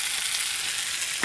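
Gnocchi fry in a small pan of brown butter, giving a steady, close, loud sizzle with a brief brighter hiss near the end.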